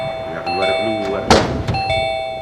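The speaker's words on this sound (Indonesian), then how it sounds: "Jangan mainan bel." A doorbell rings with bright sustained chimes, sounding twice, while people talk and a thud lands between the rings.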